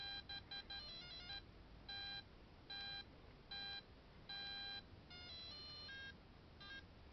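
A Grandstand / Tiger LCD handheld game plays a short, thin electronic beeping tune, bursts of high square-wave notes in a stop-start melody over a steady hiss, faint and tinny.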